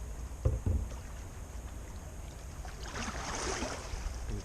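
A small rowboat moves through a tight, mossy channel on Lake Windermere against a down current, with a few knocks early on and then a steady splashing wash of water building near the end.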